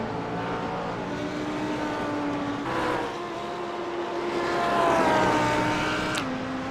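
An Audi race car in a sim racing game at Watkins Glen holds steady engine tones, its pitch climbing through gears with a brief shift drop near the end, loud and continuous with no talk.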